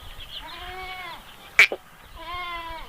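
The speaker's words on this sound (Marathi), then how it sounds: "इकडे आमची बकरी आहे" A goat bleats twice in long, wavering calls, with a sharp knock and a brief rustle between them; no talking.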